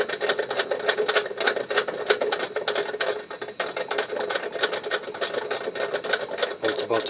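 Aluminum cans being fed through a RockCan crusher machine, a dense, rapid rattling clatter of repeated mechanical impacts running steadily throughout with a brief dip midway.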